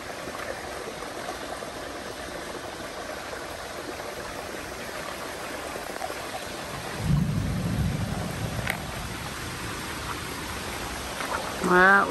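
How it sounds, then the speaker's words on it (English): A rumble of thunder rolls in during a storm over a farm, rising briefly from a steady background of rain and wind before fading, with a short burst of noise near the end. "That was the thunder."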